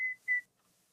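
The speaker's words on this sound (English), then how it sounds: "No, I whistled." A person whistles two short, clear high notes in quick succession, the second slightly longer, close and fairly faint against near silence.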